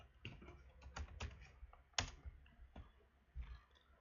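Keys clatter on a computer keyboard as a command is entered into the Windows 11 command prompt, a quick run of uneven clicks with a sharper tap near the middle, close and clear with no talking.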